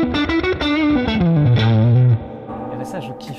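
Electric guitar played through a Fullertone amp turned all the way up, heavily distorted with effects: a loud, close run of descending notes that ends on a sustained tone, then cuts off and leaves a reverberant tail under faint movement.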